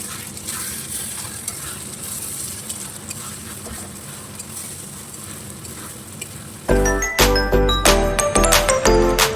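A continuous sizzle of ginger and green chilli paste frying in a pan, then loud metallic clanks and scrapes of vigorous stirring take over for the last few seconds.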